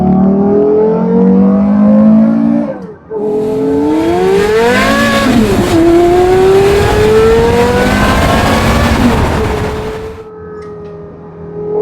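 A modified Porsche Carrera GT fitted with a Graham Rahal Performance exhaust, its engine loud and close as it revs up through rising pitch, drops briefly on a shift, then climbs again and settles into a steady drone before easing off.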